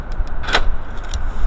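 A Mercedes G-Class AMG door opening: a short mechanical latch click with a brief metallic clunk over a low background hum, all within a second and a half.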